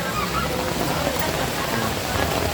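Estrella Falls waterfall in Narra, Palawan, heard as a steady broadband rush of falling water, continuous and fairly loud throughout with no pauses.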